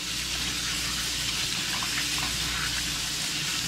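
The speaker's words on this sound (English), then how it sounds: "Just give them one final rinse." Freshly caught Dungeness crabs are rinsed under running water: a steady, close hiss and splash of flowing tap water continues evenly throughout, with no voices.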